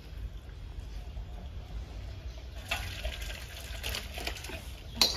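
Thin chicken and potato curry is poured from a pot into a dish: a soft liquid splash and trickle, quiet at first and then a little louder in short wet bursts.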